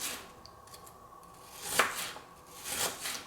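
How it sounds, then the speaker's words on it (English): Knife slicing an heirloom onion into thin strips on a board, a few scattered crisp cuts with two louder strokes near the end, close and clear with no talk. "Now the onion, what we're going to do is just cut the ends off and just turn into really thin strips."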